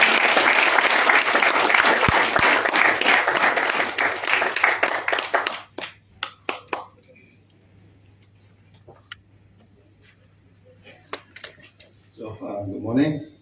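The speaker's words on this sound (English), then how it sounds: "Let's give Datuk Lim a warm welcome and a loud round of applause" An audience at a Malaysian corporate event applauds a speaker loudly for several seconds, the clapping thinning to scattered claps, then quiet before a voice begins speaking.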